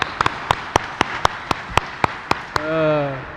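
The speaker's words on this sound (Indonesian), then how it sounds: "Kita tepuk tangan." Sharp, evenly spaced hand claps in unison from a congregation at a church service beat out a steady rhythm of about a dozen strikes, then stop as a voice begins.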